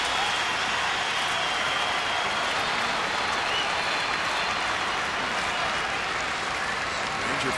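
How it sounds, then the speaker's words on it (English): Texas Rangers fans stand and applaud behind their dugout at a baseball game in Houston, a dense, steady wash of clapping from a large crowd that holds at an even level throughout. "Ranger fans standing and applauding behind their dugout."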